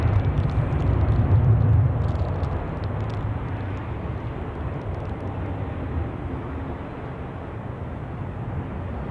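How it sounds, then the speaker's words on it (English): An Airbus A330 takes off from Zurich Airport on a crosswind day, heard as a loud, steady broadband jet roar with strong low rumble that swells in the first two seconds, then holds at a slightly lower, even level. "And take off for the A330 to Tel Aviv."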